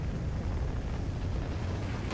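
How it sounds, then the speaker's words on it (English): Trinity rocket strike in Call of Duty: Ghosts, a dense, roaring explosion rumble that holds steady and loud for about two seconds with no break. "Friendly Trinity rocket inbound."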